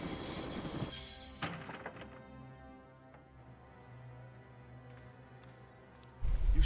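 A train in the video game Broken Sword grinds to a halt: a bright squeal and clatter give way to a low, fading rumble, then a sudden loud burst of noise at the end.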